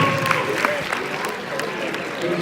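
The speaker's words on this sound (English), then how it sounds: "Everybody give this man a round of applause really quick" Live audience applause at a comedy culture night on a university campus, a steady mix of clapping and crowd noise with scattered louder claps, fairly near and continuous.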